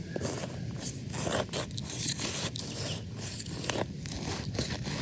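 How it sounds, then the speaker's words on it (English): A cheap, dull knife saws through lawn turf around a sprinkler head, making close, rough rasping and tearing strokes in an uneven rhythm with short pauses between cuts. "I've got a really crappy knife that I'm gonna use to cut around this"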